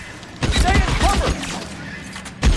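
Gunshots crack in a rapid fusillade during a shootout in the L.A. Noire video game, several close reports in a quick cluster with another burst at the end, while voices talk over the firing.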